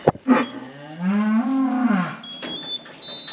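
A cow gives one long, loud, close moo that rises and falls in pitch during cattle scanning on a farm, followed by some handling clatter and faint high electronic beeps.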